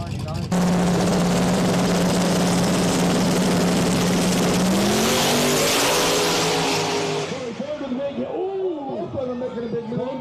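Race cars accelerating hard at a drag racing event, including a 1964 Chevy, their engines roaring loud and steady and rising in pitch before cutting off, with a commentator talking over the noise.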